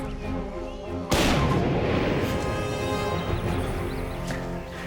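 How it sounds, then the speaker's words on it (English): A single cannon on an island shoreline fires with a sudden heavy boom that rolls out into a long rumbling decay over background music. "Wait for the cannon."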